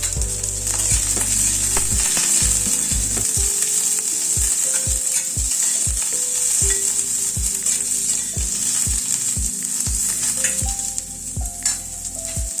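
Onion and ginger fry in a hot pan for a paneer and baby corn dish, giving a steady, loud sizzle with repeated utensil clicks and scrapes as they are stirred, and no voices.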